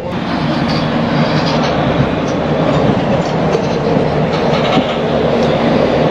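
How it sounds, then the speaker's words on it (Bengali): A train departs Bandel station at night, rolling along steadily with a continuous loud rumble and faint rhythmic clatter of wheels on the track. "ব্যান্ডেল স্টেশন থেকে এখন ট্রেন বেরোলো"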